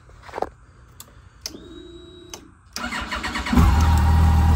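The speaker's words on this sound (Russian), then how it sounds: "Запускается, работает ровненько," A Yamaha FJR1300 motorcycle with 12,000 km on it cranks with a whining starter, then the engine catches and settles into a smooth, fairly loud idle. A few faint clicks come first, after the key is turned.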